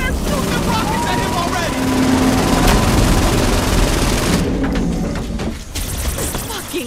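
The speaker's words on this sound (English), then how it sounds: "Shoot the rockets at him" Rockets fired and exploding in the Saints Row 4 video game, a dense, loud barrage of booming blasts and rumbling gunfire that runs continuously, with a voice talking underneath the explosions.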